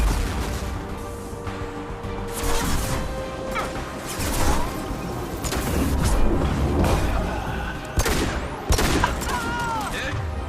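Sci-fi weapons fire rattles through combat in Mass Effect 2, with dense repeated gunshot bursts, booming impacts and crashes layered over game music, while voices shout briefly amid the firefight.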